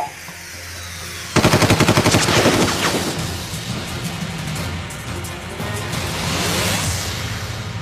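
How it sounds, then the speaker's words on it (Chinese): Sudden machine-gun fire bursts out in a rapid string of loud shots, then gives way to lingering echoing rumble and more distant gunfire in a combat scene. "这哪来的枪声啊？"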